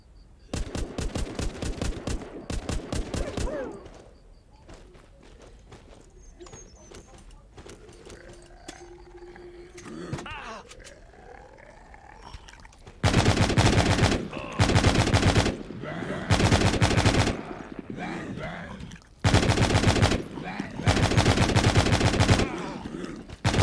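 Loud bursts of automatic gunfire from the zombie survival video game The Walking Zombie 2, a rapid rattling volley at the start, then a quieter stretch, followed by several long, sustained machine-gun bursts separated by short pauses.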